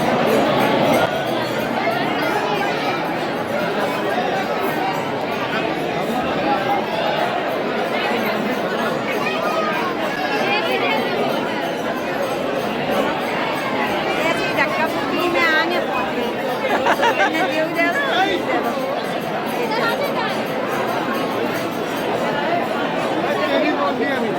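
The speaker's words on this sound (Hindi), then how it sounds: "अभी यहाँ बहुत भीड़ हो रही है" A dense crowd of devotees mills about the Radha Rani temple in Barsana, with steady close babble of many voices and occasional clinks filling the whole stretch without pause.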